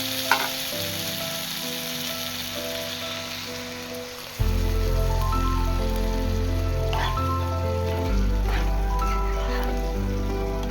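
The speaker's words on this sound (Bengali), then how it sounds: "এখন দিয়ে দেব পরিমাণ মতো জল" Water poured into a sizzling vegetable curry of potato, eggplant and flat beans, the frying hiss jumping loudly and staying as a steady bubbling, spitting sizzle, with no voices.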